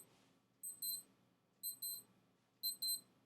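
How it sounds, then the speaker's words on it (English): A wristwatch alarm sounds in three short bursts, each a pair of high, bright electronic beeps, spaced about a second apart, fairly faint against a quiet room. "It's my alarm. It beeps 10 times before it stops."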